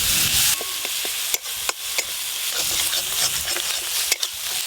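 Spices with a fried tomato-onion paste, cumin, coriander, chilli and turmeric powders fry with a steady sizzle while a utensil scrapes and stirs the pan in sharp repeated clacks.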